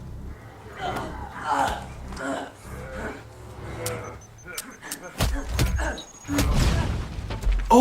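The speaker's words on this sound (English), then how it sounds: "Oh, that's his gun." Gunfire from the Winter Soldier versus Red Hood Death Battle animation, with loud sharp bangs clustered toward the end along with booms and thuds, heard among reactions and talk.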